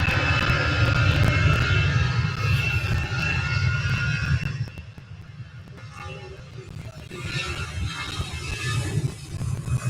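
Emirates jet airliner engines at Manchester Airport, a loud, sustained roar that dips midway and then swells again, with faint voices in the background.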